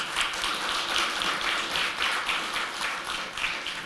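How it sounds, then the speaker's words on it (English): A crowd claps continuously, a dense patter of applause at moderate volume with no voices. "Big round of applause."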